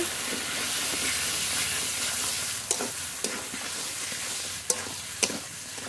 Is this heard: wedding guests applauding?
no